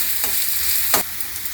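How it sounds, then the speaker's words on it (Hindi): Onions frying on low-medium heat while making lauki kofta, a steady loud sizzle with a couple of brief stirring scrapes, close up with no talking. "लो मीडियम आंच पे हम प्याज को भूनेंगे।"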